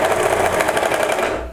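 Sewing machine running a seam of elastic onto the back of a knit blouse, close and loud, with quick rhythmic stitching chatter and a motor whine, easing off at the very end.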